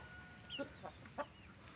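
A free-range village chicken (ayam kampung) clucks a few times nearby, with two or three short, faint calls over a quiet outdoor background.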